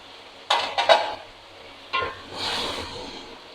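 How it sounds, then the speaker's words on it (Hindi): Tomatoes tipped into a pan of frying onion and masala for fish biryani, with two quick clattering clinks of a utensil against the pan, another knock, then a soft sizzle and stir close by. "अब मैं टमाटर डाल रही हूँ इसके अंदर"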